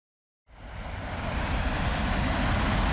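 A TGV high-speed train brakes from running speed, a loud broadband roar that swells in abruptly after brief silence and holds steady and heavy to the end.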